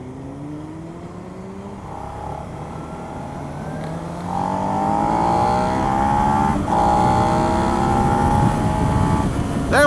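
Suzuki SV650 motorcycle engine accelerating on the road, rising whine climbing through several gears with brief shift dips, steady loud engine note under wind noise from the rider's perspective.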